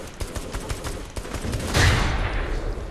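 Gunfire in the Saints Row video game, a dense broadband fusillade of rapid shots with a louder swell of blasts midway, steady and close in the game mix.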